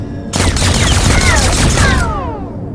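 A dense roaring barrage of gunfire in the shooter game Captain Hardcore, loud and continuous for about two seconds with whistling sweeps over the din, then fading.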